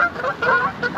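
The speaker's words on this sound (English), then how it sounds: "But the geese are getting more and more and more." Geese honk beside a carp fishing lake, several loud nasal calls in quick succession, close by and overlapping, with no speech.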